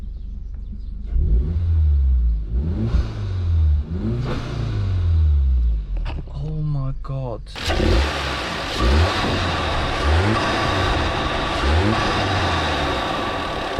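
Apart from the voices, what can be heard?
car engine revving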